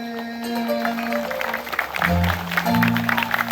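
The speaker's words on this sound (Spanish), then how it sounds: "Muchas gracias por esos aplausos, chicos." Children clapping at a school event at Escuela 1 de Mayo, a fairly loud patter of applause that builds over a low steady tone and continues to the end.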